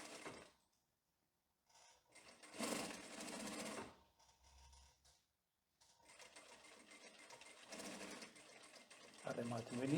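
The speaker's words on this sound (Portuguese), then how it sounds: "vamos passar um pesponto de um pé de máquina, igualando as lapelas do bolso" Sewing machine topstitching the pocket flaps of tailored women's trousers one presser-foot width from the edge: quiet bursts of rapid mechanical stitching that start and stop, with someone talking in between.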